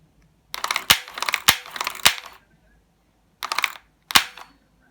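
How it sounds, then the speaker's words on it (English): A 3D printed spring-loaded launcher with a servo-operated magazine, built into a gauntlet, fires in sharp mechanical snaps. A quick cluster of three clacks with rattling is followed after a pause by two more close, crisp bursts. "which is essentially a spring-loaded launcher with a servo-operated magazine"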